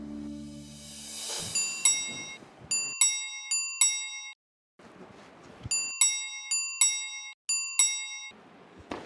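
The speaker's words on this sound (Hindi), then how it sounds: "कब से घंटी बज रही है, जाके देखो कौन है।" A doorbell rings repeatedly in a home, bright chiming ding tones in several bursts of quick repeated strikes separated by short gaps, fairly clear against a quiet room.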